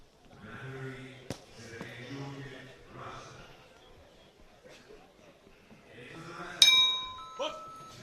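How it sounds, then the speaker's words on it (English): Boxing ring bell opening round one of an IBA men's world championship 60kg bout: a sharp metallic clang with ringing tones near the end, following earlier knocks, under steady commentary and arena noise. "So there goes the bell."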